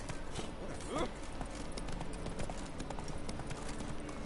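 Hoofbeats of the horse Roach galloping in The Witcher 3, a steady clip-clop running throughout under continuous game music and ambience, with voices talking over it.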